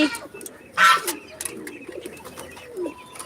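A pigeon gives a short, close coo among a farmyard's other birds, while a person talks softly nearby.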